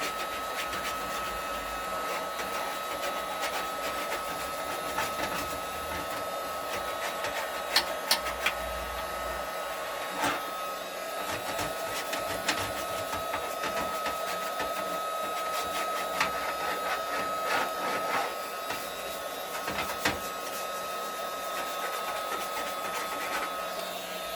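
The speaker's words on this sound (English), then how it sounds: "the source of most of the sound is from my graphics card fan" A constant whirring graphics card fan hum with a steady tonal whine runs throughout, close by, with a few faint clicks and no voices. The fan is dirty.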